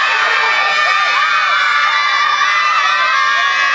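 A crowd of children shouts and cheers together in a loud, continuous wall of high-pitched yelling and whoops that stays close and steady throughout.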